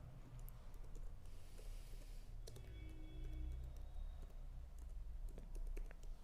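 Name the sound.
typing C code on a computer keyboard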